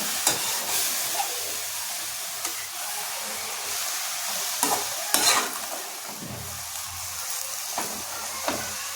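Fenugreek leaf bhaji being stirred in a pan, a steady hiss of frying under repeated soft scraping strokes of the spoon, close and fairly quiet, with no talking.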